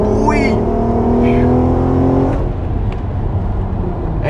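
Volkswagen Golf 5 R32 with its V6 and Milltek exhaust pulls hard at full throttle, a loud dense engine roar that rises and then eases off, with a person speaking over it.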